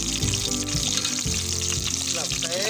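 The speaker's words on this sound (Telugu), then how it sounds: "వంకాయలు ఇట్లా ఫ్రై చేసుకోవాలి." Black eggplants frying in oil in a pan for a Telangana-style stuffed dish, with a loud, constant close sizzle and small crackles, briefly disturbed as the pieces are stirred.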